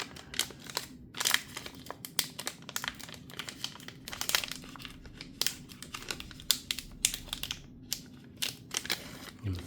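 A paper mystery envelope holding a trading card is torn and crinkled open at close range, with a long run of quick, irregular rips and rustles and no talking.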